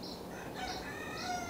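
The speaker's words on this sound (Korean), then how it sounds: "20마리의 닭이 살고 있습니다." Chickens and a rooster on a small backyard farm in a California residential neighborhood, with crowing and clucking heard faintly at a steady distance and no talking.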